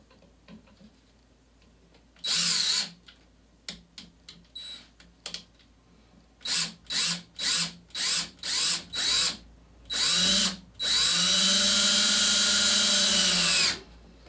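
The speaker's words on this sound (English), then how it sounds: "so this is my drill dying." A battery power drill dying while pegboard goes up: short bursts of high whirring, then a run of evenly spaced pulses that stop and start, ending in two longer strained runs as the motor struggles. Nearby and alone, with no talk.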